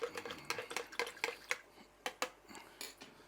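A thermometer stirs a sugar and yeast mixture in a container for a DIY CO2 system, giving quick light clinks and taps in uneven bursts, close and fairly quiet, with no voices.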